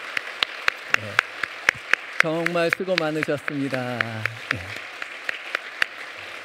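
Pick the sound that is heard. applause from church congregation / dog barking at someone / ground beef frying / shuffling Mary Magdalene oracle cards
applause from church congregation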